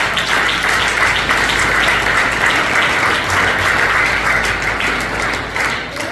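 A church congregation applauding during a sermon on Christianity and politics, continuous full clapping from many hands that stays strong and even, tapering slightly near the end.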